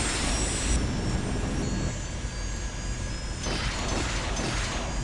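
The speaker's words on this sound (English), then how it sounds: "There's a fighter jet." A fighter jet in the Tribes: Vengeance video game roars past as a steady, loud broadband rush of engine noise that dips briefly midway, then surges again.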